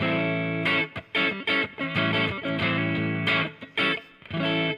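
An electric guitar played through a Helix Stomp pedal on a cleaner setting rings out in loud, rhythmic chords. The chords are strummed in choppy bursts with brief gaps, and no voice is heard.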